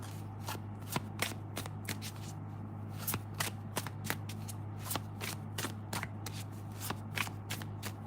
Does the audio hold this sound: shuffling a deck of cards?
yes